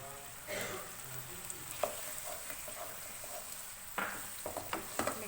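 Tomatoes and softened potatoes for methi aloo are stirred in a pan, with a steady sizzle and frying crackle running throughout and occasional scraping stirs.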